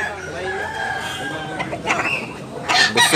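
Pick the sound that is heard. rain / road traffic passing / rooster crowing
rooster crowing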